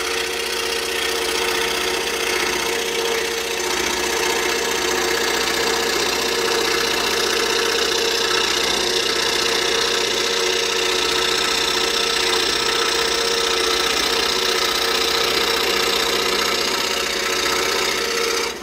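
A scroll saw cutting a pattern in wood, giving a loud, continuous buzzing motor drone with a steady rapid vibrating rattle that keeps on without pause.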